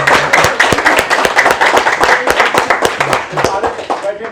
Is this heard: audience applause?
yes